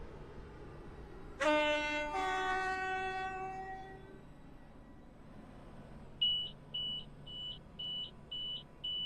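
A train arriving at a station sounds a loud two-tone horn blast, then rumbles along as a series of short, regular electronic beeps starts up near the end. No one speaks.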